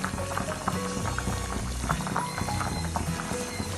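A pot of Kumarakom-style chilli fish curry simmers close by, with a busy bubbling and popping texture and soft knocking bursts throughout, fairly quiet and with no speech.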